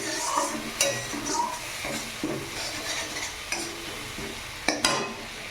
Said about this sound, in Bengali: এখানে একটু হলুদ দিয়ে দিচ্ছি, দিয়ে এটা একটু ভাজা ভাজা হয়ে যাক।